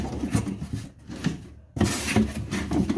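A box of custom 1/64-scale toys is worked open, giving close rubbing and scraping of packaging with a short near-silent pause before a louder burst of rustling handling.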